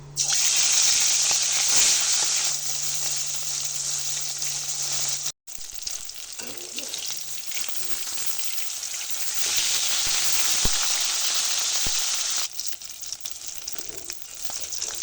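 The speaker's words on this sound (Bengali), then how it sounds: "তেলটা খুব ভালো করে গরম হয়ে গেছে এবার আমি মাছগুলো দিয়ে দেবো" Loud, steady sizzling of rohu fish pieces frying in hot oil, crackling continuously with a brief break partway through.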